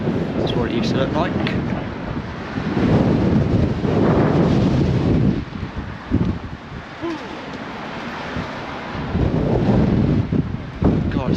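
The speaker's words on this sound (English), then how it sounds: "It's so windy out here today." Strong gusts buffet the microphone on a seaside pier walk, a loud rumbling roar that surges and eases through the clip while people talk underneath.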